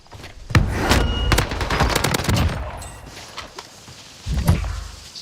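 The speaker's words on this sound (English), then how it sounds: "Taking fire." Bursts of automatic gunfire ring out in a first-person shooter video game, first a long loud volley and then a short sharp burst near the end, with brief quieter gaps between them.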